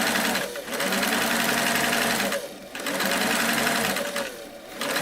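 Singer Model 337 sewing machine motor driving its belt, running loud and close in a fast whirring buzz that dips briefly twice as the hand wheel is loaded.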